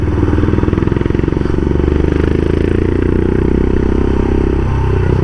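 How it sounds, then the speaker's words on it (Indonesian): A custom Royal Enfield Himalayan motorcycle built by Smoked Garage idles close by, a loud, deep engine putter with rapid regular firing pulses and a slight mechanical clatter, running steadily on its own. "Tapi other than that, motor ini enak. Suaranya pun keren, ya kan?"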